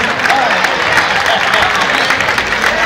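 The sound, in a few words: audience applause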